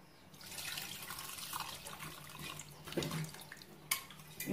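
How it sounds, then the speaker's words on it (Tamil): Tamarind water poured into a cooking pot on the stove, a steady liquid splashing and trickling for several seconds with a few louder splashes near the end, close up and with no talk. "நான் லைட்டாக புளி தண்ணி ஊற்றுறேன்."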